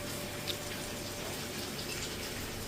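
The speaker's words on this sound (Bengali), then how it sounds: "এখন আমি এর মধ্যে দিয়ে দেবো হচ্ছে জল, গরম জল।" Hot water pours into a cooking pot of chicken simmered with potatoes, making a steady soft gushing splash that runs evenly throughout, fairly quiet, with no one speaking.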